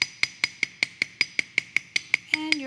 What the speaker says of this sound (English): you're going to lightly texture the entire disc.